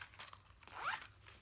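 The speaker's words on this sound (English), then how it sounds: "And then you can zip this outer pocket that zips up the other two compartments in the front and back." A zipper drawn shut along the outer pocket of a Kipling bag, a short raspy zip of about a second, close and fairly quiet with no talking.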